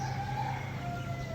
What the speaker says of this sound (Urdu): دور بھی ایک کوئی مرغا بول رہا ہے